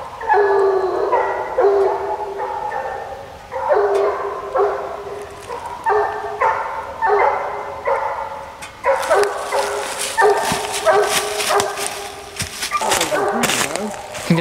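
Coonhound pup on a West Virginia coon hunt, baying in repeated drawn-out bawls from some distance in the woods, joined by more dogs and rising in intensity toward the end.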